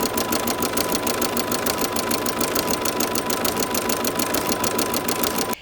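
A sewing machine runs steadily, stitching ribbon onto fabric for a tuxedo-style pillow, its needle strikes forming a fast, even, close-up mechanical chatter with no talking.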